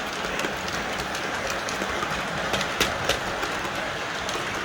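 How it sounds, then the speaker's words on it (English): Two O gauge model trains run together on a home layout, producing a continuous rolling rumble with light clickety-clack of wheels over track joints and a few sharper clicks. "And there's the two trains running together."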